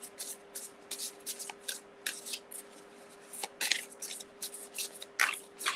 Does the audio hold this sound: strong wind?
no